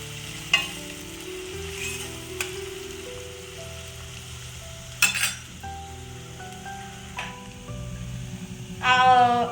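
Chopped onion sizzles as it is stirred and fried in a pan with cumin seeds, a steady frying hiss with a few sharp spoon scrapes and clinks spread through it, and a louder burst of sizzling near the end.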